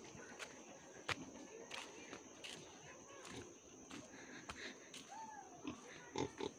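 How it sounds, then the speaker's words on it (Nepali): A piglet grunts in short scattered snorts around a village yard, mixed with footsteps and rustling, with voices talking faintly nearby. "सुँगुरको बच्चा"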